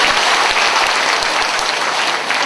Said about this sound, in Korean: 박수 한번 쳐드리고